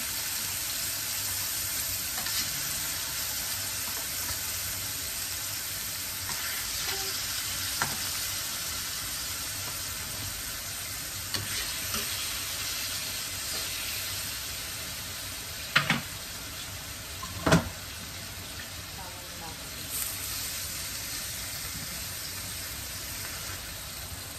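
Tuna frying in a pan until brown, a steady close sizzle that runs throughout with no voices, broken by a couple of sharp clatters or pops near the end.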